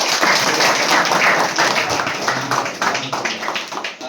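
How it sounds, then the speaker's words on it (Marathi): A group at a devotional bhajan society gathering bursts into loud, dense applause for the presentation of a dholki drum. Rapid claps blend into a continuous roar that stays strong for several seconds before easing slightly. "त्यांच्यासाठी आपण जोरदार टाळ्या वाजवूया."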